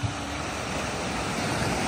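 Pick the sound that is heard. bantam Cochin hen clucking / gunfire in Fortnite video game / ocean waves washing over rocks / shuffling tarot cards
ocean waves washing over rocks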